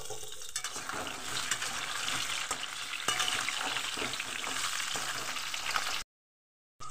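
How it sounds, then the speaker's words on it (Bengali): Cut potatoes and whole garlic cloves fry in oil in a pan: a loud, dense, continuous sizzle with occasional stirring clicks, heard close up before it cuts off abruptly. "আমি কেটে রাখা আলুগুলো আমি তেলে ভেজে নেব।"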